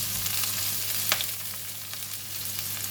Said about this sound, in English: Because the stem take quite a long time to cook, so that's why I put them in first. Just cook them for a bit, like half a minute.